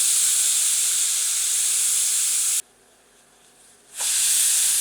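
A pressure cooker full of mutton curry vents steam on medium heat, a loud, steady hiss that cuts off abruptly for over a second and then resumes.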